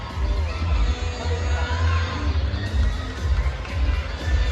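A crowd at a male pageant, Ginoong Santa Rosa 2024, cheers and shouts steadily, loud and close, a continuous roar of voices and whoops throughout.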